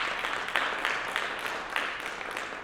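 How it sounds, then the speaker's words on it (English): Modest applause from the audience at a family safety meeting, a steady patter of clapping hands heard at moderate distance and fairly quiet. "If we could just give a round of applause to all our folks here tonight."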